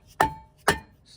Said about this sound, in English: Try to take out the rotor. I'm gonna have to hit this bitch real quick.